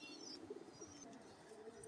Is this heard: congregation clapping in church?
no